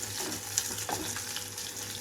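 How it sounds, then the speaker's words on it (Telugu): A soft, continuous sizzle of onions frying in oil, fairly quiet and even, with a faint clink partway through. "ఇక్కడ ఉల్లిపాయలు అంతా ఫ్రై అయిపోవాలి"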